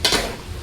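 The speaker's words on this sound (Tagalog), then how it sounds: "Haluin natin." Laing, taro leaves simmering in coconut milk, stirred briefly in a pan, with a soft scrape and bubbling sizzle that fades over under a second.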